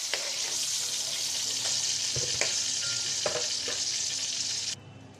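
Pointed gourd (potol) fries in oil in a large wok, a loud continuous sizzle with occasional stirring clinks, until it cuts off abruptly near the end.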